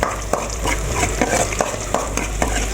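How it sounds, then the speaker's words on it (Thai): Garlic frying in plenty of oil in a pan for salted-egg squid stir-fry, a steady loud sizzle with rhythmic stirring scrapes throughout, no talk. "เดี๋ยวกระเทียมให้หอมก่อนนะคะ"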